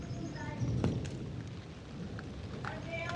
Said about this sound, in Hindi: बारिश भी आना स्टार्ट हो गई